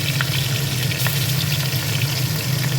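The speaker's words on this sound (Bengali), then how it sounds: "আর পিস মাছকে ভালো করে ভেজে নেব" Shol fish pieces frying in pure mustard oil, a steady, close, continuous sizzle with faint bubbling that holds even throughout, no voices.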